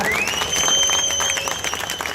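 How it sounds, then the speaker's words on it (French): Steady applause for a champion from an audience at the Lyon motor show fills the whole moment, dense and even, with a high electronic tone ringing over it. "On applaudit le champion."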